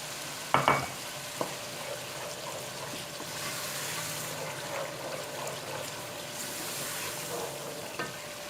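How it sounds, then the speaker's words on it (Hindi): Goat trotters frying with yogurt in a pot for mutton paya, a steady sizzle with wet bubbling and occasional clinks and scrapes of a stirring spoon, continuous and close. "ये ऐड करके अब हम इसको मज़ीद 5 मिनट भून लेंगे"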